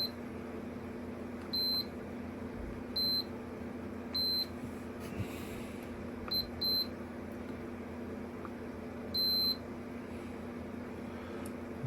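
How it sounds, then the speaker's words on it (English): A Bally -35/-50 pinball sound board gives short, thin electronic beeps on power-up, several brief tones spaced irregularly over a faint steady hum, with no talking. "I can just listen for the beep"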